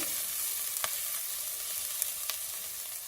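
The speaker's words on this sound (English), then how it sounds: "Just to roast the spices a little bit" Spices roast in a dry pan with a faint, steady hiss and a few light ticks and pops scattered through, quiet and close with no speech.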